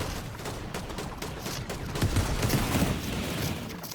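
Rapid gunfire from hip-fire shooting in a competitive video game match, a dense stream of shots at steady volume with a few heavier thumps partway through.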